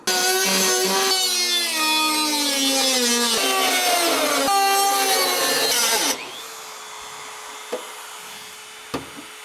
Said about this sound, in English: So my weapon of choice here is going to be a Dremel. We'll see if this will be able to cut through with the metal cutting blade.